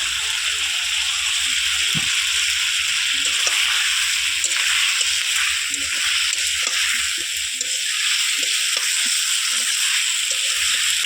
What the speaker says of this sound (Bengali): এবার এর মধ্যে ফুলকপিটা দেবো, দিয়ে একটু ভালো করে কষে ঢাকনা চাপা দেবো